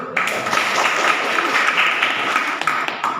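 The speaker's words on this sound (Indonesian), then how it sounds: "Tepuk tangan dulu." A classroom of students claps together for a moment, a close, bright patter of many hands that rises quickly and stays fairly even for about three seconds before cutting off.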